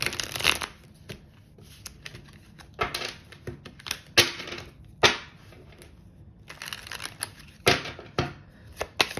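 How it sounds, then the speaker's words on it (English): Tarot cards being shuffled in several close bursts, each a quick riffling flutter followed by a short pause, with soft handling noises between the shuffles. "Let me just give these a good shuffle."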